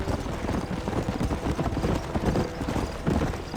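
Horse hooves gallop in Red Dead Redemption, a rapid, even clip-clop rhythm close by and continuous throughout.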